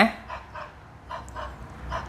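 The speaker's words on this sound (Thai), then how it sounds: "นี่เสียงหมา" A few short dog barks played from an Oukitel WP19 phone at a moderate distance, spaced irregularly over a low background hum, sounding slightly thin as if from a small speaker.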